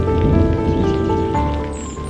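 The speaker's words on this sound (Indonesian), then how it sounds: "Rintik hujan mulai turun, gerimis halus seperti doa yang gugur perlahan." Light drizzle falls steadily on the thatched roof and surroundings of a small wooden hut, a soft continuous patter close by with no voices.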